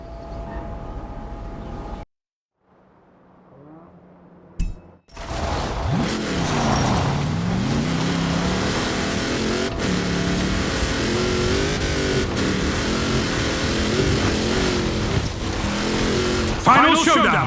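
Pro truck racing engines in a video game, heard after a short silent pause and a sharp hit, as a continuous roaring drone with shifting pitch through the rest of the clip. Speech is faintly present.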